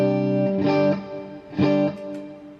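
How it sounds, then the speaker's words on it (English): Guitar played through a pedalboard chain ending in a hall reverb program, two sustained chords or swells that bloom and fade into a long reverberant tail, clear and alone with no talking. "Then my reverb, I've got a Hall program."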